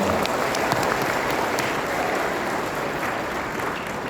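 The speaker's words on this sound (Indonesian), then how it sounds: "tepuk tangan buat Muhammadiyah untuk ini." Steady, dense audience applause fills a graduation ceremony hall, sustained and loud throughout with no breaks, a faint voice barely present beneath the clapping.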